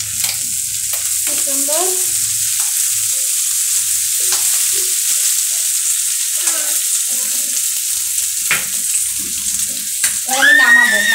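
Fish fat sizzles and fries in a pan with a constant bright hiss, while someone talks intermittently over it and a few louder spatters rise near the end.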